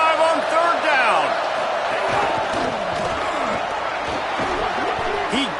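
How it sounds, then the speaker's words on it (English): A loud Ohio State football stadium crowd roars and cheers on third down against the Ducks, a dense, sustained wall of noise with whoops, with a voice talking over it. "The Buckeye crowd alive on third down."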